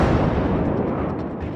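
A New Mexico battleship's guns fire in World of Warships, a loud, deep booming rumble that fills the moment and slowly fades.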